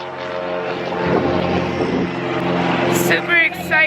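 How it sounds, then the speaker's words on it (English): An airplane passes overhead above a beach on St Thomas, a steady broad engine drone that swells slightly, with light background voices and brief high chirps near the end. "There's a plane up there."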